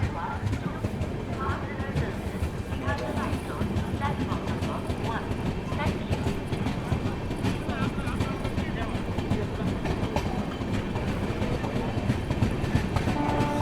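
The Haridwar–Bhavnagar Terminus Express departs Surendranagar, a continuous rumble with rhythmic wheel clatter over rail joints, heard from on board and steady throughout, with people talking under the noise.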